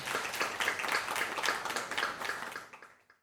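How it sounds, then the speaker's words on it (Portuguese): Audience applause for guests at the opening of a conference, a dense patter of many hands clapping at moderate level that fades out near the end. "aplausos mais uma vez para os nossos convidados"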